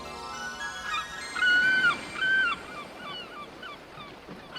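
Seagull calls in an anime scene: a few loud drawn-out squawking cries near the middle, followed by fainter scattered calls over a soft background hum.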